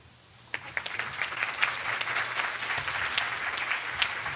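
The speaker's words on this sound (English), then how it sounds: "Let's give a big round of applause to Dr. Zhang Li for introducing us to the Korean American population" Applause for Dr. Zhang Li at a caregiving talk, starting after a half-second lull with a few sharp claps, then building into a steady, moderately quiet patter of many hands over a low hum.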